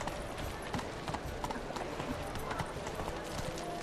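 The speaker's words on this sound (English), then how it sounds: "Luego vamos a llamar al caballo." A horse trotting in The Witcher 3, with steady rhythmic clip-clop hoofbeats over a busy game soundscape throughout.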